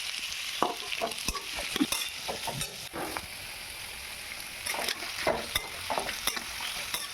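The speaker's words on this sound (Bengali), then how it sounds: "তো এই দেখো এবারে পেঁয়াজগুলো ভালোভাবে লাল লাল করে ভেজে নেব।" Onions frying with bay leaf, dried chilli and a pinch of salt for Bengali chicken kosha, a continuous close sizzle broken by repeated scraping stirs of the spatula against the pan.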